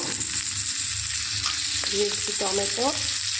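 Tomatoes go into a spice paste frying in a pan, setting off a loud, steady hiss and sizzle heard close, with a few soft stirring knocks and a short voice fragment partway through.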